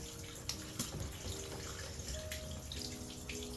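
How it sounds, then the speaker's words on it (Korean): Blanched water dropwort (minari) is rinsed in cold water, giving a soft, continuous splash and trickle with light drips, faint and close by. "미나리 데쳐진 거를 넣고요 한 번만 이렇게 저기 찬물에 씻어줍니다"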